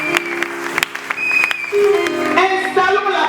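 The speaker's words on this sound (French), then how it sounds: "Quelqu'un acclame le Seigneur" Church congregation clapping and cheering, sharp claps scattered over a dense crowd, with voices and sustained singing or shouting rising throughout.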